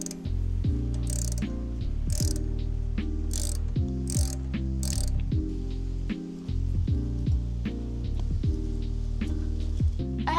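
Ratchet wrench turning a brake caliper bolt on a car wheel, repeated bursts of close, loud clicking in a steady rhythm with brief pauses between strokes.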